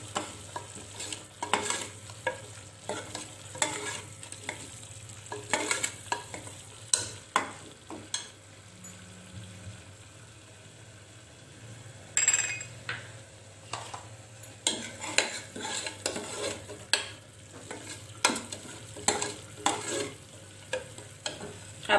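Coriander powder masala sautéing in a pan for chole, with steady soft frying under repeated brisk spoon scrapes and taps against the pan, close and rhythmic throughout, without any voices.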